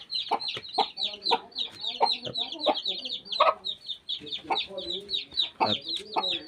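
Busy clucking and peeping from hens and chicks, many short calls overlapping continuously at close range.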